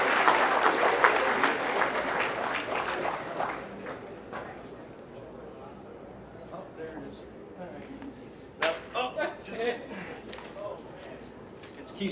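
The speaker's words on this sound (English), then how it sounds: "Let's have a round of applause for our hosts here in the city of Iowa City." A crowd applauds loudly for several seconds, then the clapping thins out and fades beneath someone speaking.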